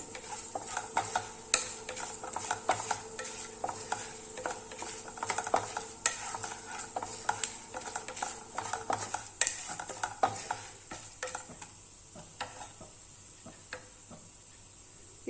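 Ingredients for uppu urundai fry in a pan under a soft, steady sizzle while a spoon stirs, giving many quick clinks and scrapes close by. The stirring slows toward the end, with no voices.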